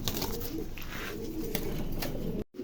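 Pigeons coo in low, throaty rolling calls close by, a steady murmur running almost the whole time before cutting off abruptly at the end.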